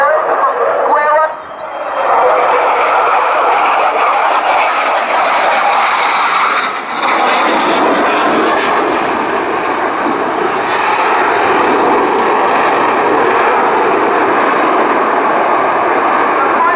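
A propeller aircraft flies a square loop at the RNZAF Air Tattoo air show, its engine roar loud and sustained throughout with brief dips. An announcer's voice and crowd noise sit beneath it.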